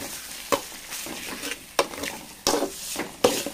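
Egg rice with egg roast is stirred in a frying pan, with soft background sizzling and several sharp scraping clinks of a spoon against the pan at irregular intervals.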